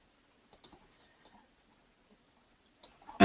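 A computer mouse double-clicks at a quiet desk while shapes are drawn in design software: a quick pair of close, soft clicks, a few scattered single clicks after, and a louder thump at the very end.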